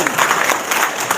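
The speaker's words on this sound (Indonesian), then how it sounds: "tepuk tangan dong Depok" An audience in Depok applauds, a dense continuous burst of clapping from a crowd, close and loud throughout.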